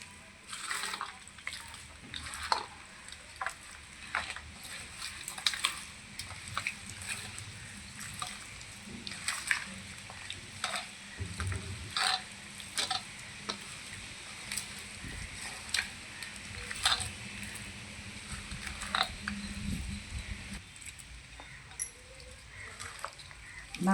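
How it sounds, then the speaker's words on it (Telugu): Cauliflower pickle mixture being mixed by hand, producing repeated close, wet squelching and rustling strokes throughout, with some quiet talking in the background. "ఈ మిశ్రమాన్ని బాగా కలుపుకోవాలి. మొత్తం కలిసేలాగా"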